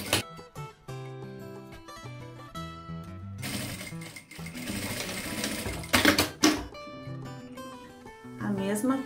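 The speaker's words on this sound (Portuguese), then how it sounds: "E vou passar um presponto aqui só para prender o zíper ao forro." A sewing machine stitches a zipper onto a bag's lining in short bursts of rapid rattling needle strokes, pausing between runs, with fabric handling sounds in the gaps.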